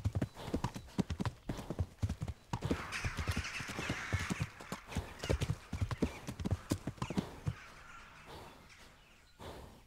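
Horse hooves clop in quick, irregular bursts of galloping in Kingdom Come: Deliverance, close and distinct, easing briefly and resuming before fading toward the end, with faint bird calls in the background.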